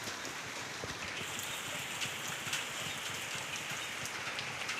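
Morning rain falls in a dense, even hiss with scattered drops pattering nearby, steady throughout and free of any voices.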